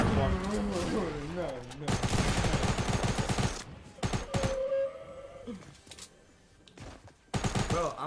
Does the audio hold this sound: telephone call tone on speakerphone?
no